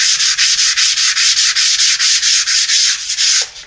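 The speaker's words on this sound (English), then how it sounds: "because I was sanding quite a bit here" Hand sanding on a carved tooling board for a model fuselage, loud and close, in quick regular back-and-forth strokes with a short pause near the end.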